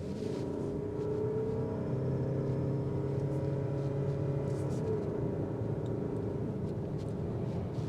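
A 2025 Mazda CX-50 Hybrid accelerating in sport mode, heard from inside the cabin as a steady low engine drone and road rumble with rising tonal whine, moderately loud and continuous, no talking.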